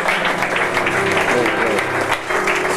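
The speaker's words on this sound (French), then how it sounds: "Est-ce qu'on peut applaudir le Seigneur," A congregation applauds at a church ordination ceremony, steady dense clapping that fills the space without pause and stays fairly loud throughout.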